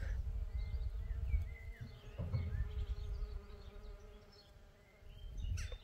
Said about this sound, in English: Can you hear the bees?